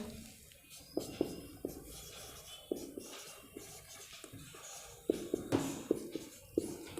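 Chalk or marker writing on a board during a chemistry lesson produces faint, irregular scratching and tapping strokes, with sharper clicks as each stroke starts, against a quiet room.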